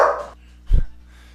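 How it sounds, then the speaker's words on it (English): A pet dog gives a single sharp bark indoors, loud and close, following a brief stretch of background noise. "there's my dog."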